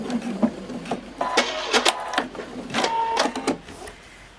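A sewing machine runs in short bursts, stitching forward and then a back stitch at lowered speed, giving close mechanical whirring and clattering with brief pauses between runs.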